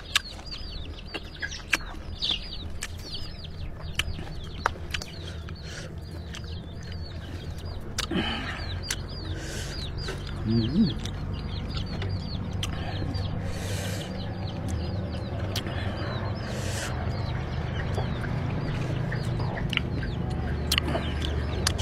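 Several farm chickens cluck and squawk intermittently over a continuous rustling, noisy background, with scattered sharp knocks and no speech.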